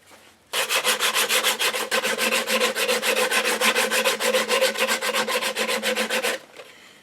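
80-grit sandpaper works a wooden HW30 air rifle stock in quick, even back-and-forth strokes. The raspy rubbing is close and steady for about six seconds, with no talking.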